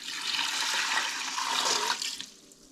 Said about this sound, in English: And we're gonna fill it up with water.